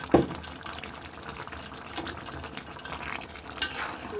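Duck curry being stirred and sautéed with garlic and chili in a pot, a soft irregular scraping and wet sizzling with a spoon knock near the start and another clink near the end, close and moderately quiet.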